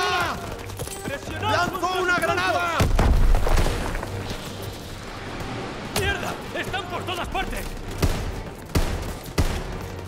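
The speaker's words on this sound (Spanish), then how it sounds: "¡Ametralladuras en la escalera!" Machine gun bursts and heavy booms from Call of Duty: WWII fighting in Aachen, up a stairwell, crackle in rapid volleys under urgent shouted voices and battle chaos.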